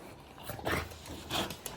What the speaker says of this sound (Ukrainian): Не дасть мені її змонтувати, дивіться, сурова собака.